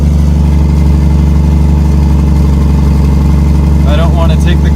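A project vehicle's engine, just coaxed into starting, runs at a steady, loud idle with a low rumble throughout; a voice talks over it near the end.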